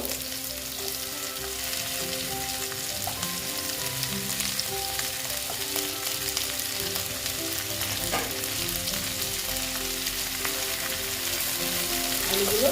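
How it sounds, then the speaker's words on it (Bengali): Cut potatoes frying with onions in a pan, with a continuous dense sizzle and crackle that holds steady and close throughout, a few faint clinks and no voices. "এখন আমি এখানে দিয়ে দিচ্ছি দেখো কেটে রাখা আলু এটা পেঁয়াজের সঙ্গে সঙ্গে ভাজা হয়ে যাবে"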